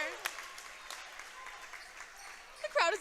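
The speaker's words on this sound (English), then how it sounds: "The crowd is getting into it." Crowd at a Shanley vs. South boys' and girls' varsity high school basketball game applauding and cheering steadily under a commentator's talk, with a brief sharp burst of squeaky, shrill sound near the end.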